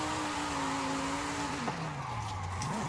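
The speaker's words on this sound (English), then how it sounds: "It's fine, we'll just drift this at night" A car drifts at night in Forza Horizon 5, its engine holding a steady droning note before dropping and sliding as the tyres squeal, loud and continuous with no talking.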